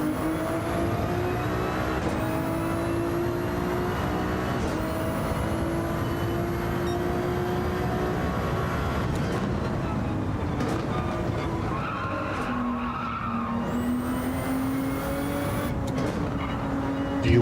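A Ferrari race car in Gran Turismo 7 screams loud and close, its engine note climbing and dropping through gear changes, with tire squeal and skidding near the end.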